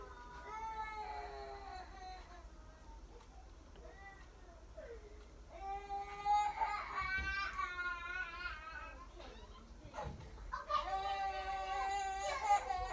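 A young child cries and wails in repeated bursts, somewhat distant, in an otherwise quiet room.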